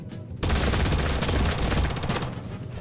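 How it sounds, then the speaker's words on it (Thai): Rapid gatling gun fire in Totally Accurate Battlegrounds, a loud sustained burst of fast shots that starts abruptly after a brief quiet moment and keeps rattling nearly unbroken to the end. "เกตติ้งยิงเราแบบนี้"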